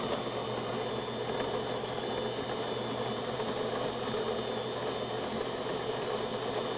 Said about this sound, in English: And you hear the grinding.